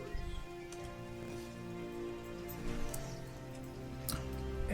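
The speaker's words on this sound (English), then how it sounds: "And it's starting to rain out a little bit." Light rain pattering softly with scattered drop ticks over a faint tonal background hum, fairly quiet and even, no talking heard.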